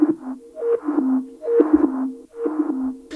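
Reversed sine-wave synth notes with tape saturation and small delays, a short three-note phrase swelling in soft repeated groups over a low sustained tone, heard alone.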